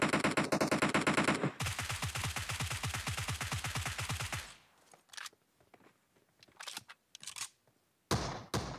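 A long rapid burst of UMP45 submachine gun fire in PUBG, then scattered single shots and short bursts with clicks in between.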